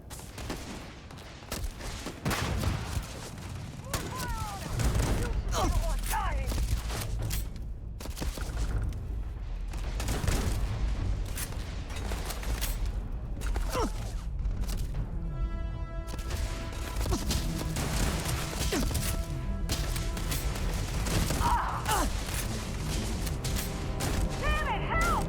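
Shotgun fire from the video game Starfield, with repeated heavy blasts and crashes scattered over a dense, loud combat soundscape. Rumbling game effects and a voice talking continue throughout.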